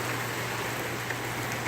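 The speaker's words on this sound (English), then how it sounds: "Raining." Rain falls steadily outdoors as a faint, even hiss that carries on without a break, with no voices.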